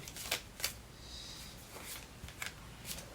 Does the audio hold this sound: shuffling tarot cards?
yes